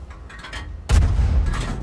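A single loud tank cannon shot in a tank battle video game, a sudden deep boom followed by a rumbling decay, after a quieter stretch of engine noise, with no voices.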